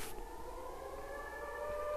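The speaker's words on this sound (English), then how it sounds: "As I say it, the tornado sirens go off." Tornado sirens wail in the Minecraft video game, a steady, slowly rising tone that holds throughout at low volume with no talking.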